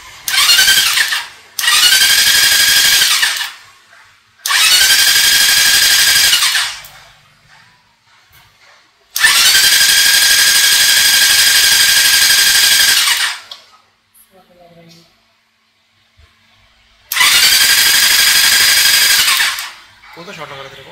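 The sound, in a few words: Benelli 600i motorcycle engine cranking and starting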